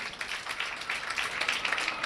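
A church congregation claps their hands in a steady, fairly faint patter of many hands, with no voices over it.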